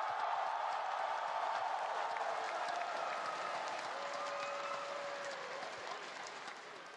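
A large crowd at a watch party for the MSI 2025 League of Legends grand final applauds continuously, a dense wash of clapping that slowly fades a little toward the end, with some cheering mixed in.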